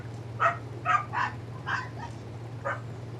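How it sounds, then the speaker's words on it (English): Puppies in the survival video game ARK Survival Ascended yip and whimper in about six quick, high, sharp calls, close and clear, over a low steady game hum. "Noisy puppies."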